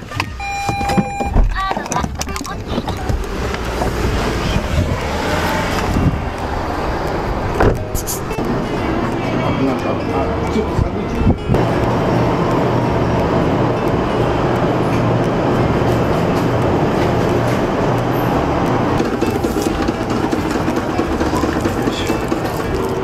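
Steady road rumble and engine drone from inside a moving car, continuous and fairly loud throughout, with faint rattles and a voice now and then.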